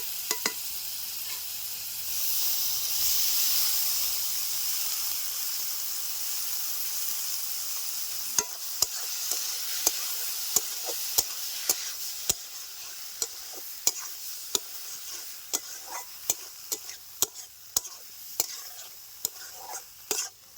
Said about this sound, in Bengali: ভুজিয়া মাছগুলিকে আমি ভালো করে কষিয়ে নিয়েছি।